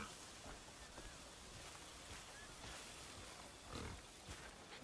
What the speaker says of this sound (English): Oh, those are pigs.